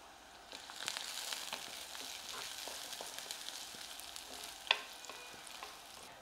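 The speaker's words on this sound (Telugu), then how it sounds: "జస్ట్ ఒక 2-3 మినిట్స్ నుంచి ఉల్లిపాయ వేగుతుంది చాలు." Sliced onion and green chillies sizzling in a pan for a beans and chana dal curry, a soft steady frying crackle with scattered stirring scrapes and one sharp clink midway, fairly quiet and without voices.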